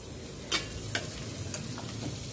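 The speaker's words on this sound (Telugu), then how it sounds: "చికెన్ వేస్తున్నాను" Chicken pieces sizzle in an oil-free AMC cooking bowl with no added salt or chilli, giving a steady crackling hiss with a few sharper pops and clinks near the start, alone without talk.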